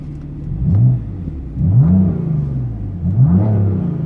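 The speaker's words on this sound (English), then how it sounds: "it's a nice sounding exhaust" A frozen silver BMW M3 revving through its exhaust, three separate deep throttle blips that rise and fall in pitch, heard close and loud over a steady idle rumble.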